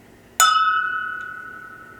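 A whiskey glass tapped once rings out clearly, a bright chime with a sustained, slowly fading tone that carries for well over a second in a quiet room.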